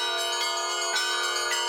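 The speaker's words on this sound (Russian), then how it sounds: "Колокольный звон у Благовещенского собора." Church bells ring at the Annunciation Cathedral, rich sustained metallic tones with several fresh strikes over about two seconds, clear and loud with no voices.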